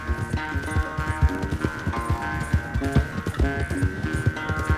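Horse hooves galloping in the video game Red Dead Redemption 2, a rapid continuous clip-clop rhythm of close, fairly loud hoofbeats over a steady music-like background, with no talk.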